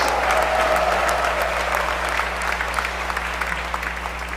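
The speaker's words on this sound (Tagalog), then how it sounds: "Pwedeng mas malakas na palakpak para sa Diyos." Congregation at an El Shaddai anniversary gathering in San Fernando clapping loudly for God, a sustained dense wash of applause over a low steady hum, gradually easing toward the end.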